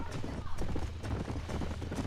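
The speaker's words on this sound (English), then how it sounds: "These are fine horses." Horse hooves clip-clop steadily in Red Dead Redemption near Armadillo, a fine horse trotting at a brisk, even rhythm under a continuous bed of game sound and some speech.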